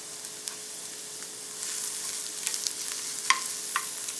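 Onions sautéing in a pan for a quiche filling give a faint, steady sizzle with a few light stirring clicks, no voices.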